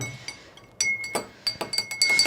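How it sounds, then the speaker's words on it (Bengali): A spoon stirs a honey drink in a glass, clinking against the sides in a quick run of bright taps, close and alone. "এই যে মিক্স করে নিলাম সহজে মিশে গেল বেশি সময় লাগে নাই একটু নাড়া দিলাম সবটা মিশে গেল"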